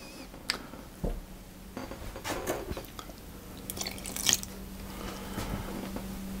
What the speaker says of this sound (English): and then I'm going to mix them around until it's nice and smooth and there are no lumps in the batter.